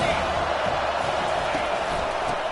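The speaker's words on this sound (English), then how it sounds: "This crowd bringing the energy and noise early." Stadium crowd at a football league game, a steady dense roar of many voices filling the venue with continuous broadband noise and no distinct individual sounds.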